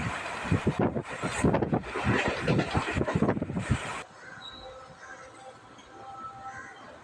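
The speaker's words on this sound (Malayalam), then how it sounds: "നമ്മുടെ ട്രെയിനിൻ്റെ സ്പീഡ് ഇത്തിരി കൂടിയിട്ടുണ്ട്." A fast-moving passenger train rumbles loudly with rapid rattling clatter and wind buffeting for about four seconds, then drops to a quieter, steady interior hum.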